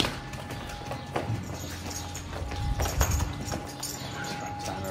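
A dairy cow with a swollen, ulcerated back hoof walks on hard ground, close irregular hoof clops and thuds over a steady background hum.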